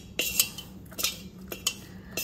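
A metal spoon moves potato starch into a pan, tapping and scraping against it in several quick, close clinks at an uneven rhythm.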